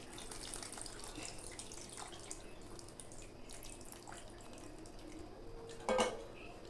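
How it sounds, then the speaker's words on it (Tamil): Tamarind-and-lentil water trickles and splashes faintly and steadily into a cooking pot, with small clinks, ending in a brief louder splash. "புளியும் பருப்பையும் கலந்து வச்சுருக்க தண்ணியை ஊற்றிடலாம்"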